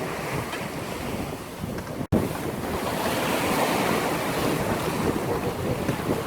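Steady wind and breaking waves surround a small sailboat under sail, moving at about seven knots near Groix, a constant loud rush with buffeting wind noise on the microphone and a brief dropout midway.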